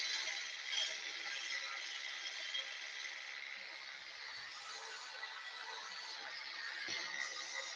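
A woodturning lathe spins as a tool cuts away excess wood at a live public demonstration, giving a steady, rattling scrape that runs continuously at moderate, close volume, with no talking.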